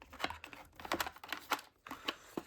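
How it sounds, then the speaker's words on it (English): Quick, close clicking and flicking taps arrive in short uneven bursts as a Druid Craft tarot deck is shuffled by hand. "So let's give them a shuffle."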